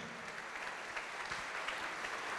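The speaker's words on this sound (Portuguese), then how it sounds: "Vamos aplaudir mesmo, minha gente." Church congregation applauding together, a dense continuous wash of clapping that stays steady and fairly loud across the whole stretch, with no speech over it.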